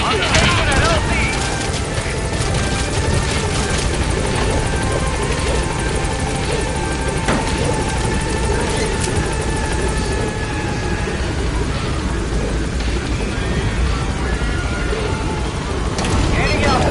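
The Pequod helicopter from Metal Gear Solid 5 arrives at a landing zone, its rotor roar loud and steady throughout, with a radio voice speaking over the noise.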